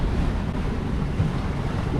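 Steady roar of wind at about 20 knots mixed with rushing waves aboard a sailboat on open sea between Cape Verde and Senegal, a dense, constant rumble with heavy wind buffeting on the microphone throughout.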